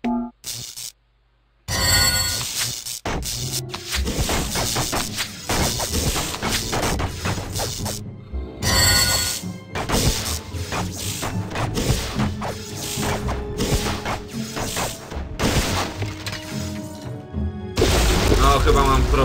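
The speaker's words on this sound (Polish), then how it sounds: "jak usłyszeliście ten wybuch" A game explosion in the fantasy RPG Dungeon Siege: several loud, crashing impact bursts and booms play over continuous game sounds, with brief dropouts of silence between them.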